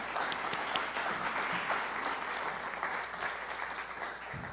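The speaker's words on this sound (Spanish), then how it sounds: "Por favor, demos un aplauso de bienvenida al licenciado." A steady wash of welcome applause from a seated audience greeting a speaker at a marketing and leadership talk, even and sustained throughout at moderate volume.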